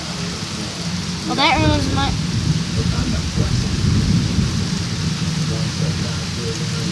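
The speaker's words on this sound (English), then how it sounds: "It's raining outside" Rain falls steadily outside with a rumble of thunder, a loud constant wash from near at hand, while a person speaks briefly partway through.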